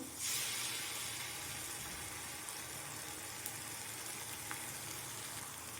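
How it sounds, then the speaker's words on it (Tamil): Ginger garlic paste fries with golden-brown onions for a beans masala gravy, giving a steady, close hiss of sizzling that starts abruptly and holds without a break. "இப்போது இஞ்சி பூண்டு பேஸ்ட் சேர்த்து நல்லா வதங்கட்டும்"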